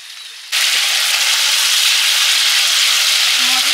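Chili-turmeric water poured into a pan of frying spices sets off a sudden, loud, steady sizzle that hisses on without pause after a brief quieter moment.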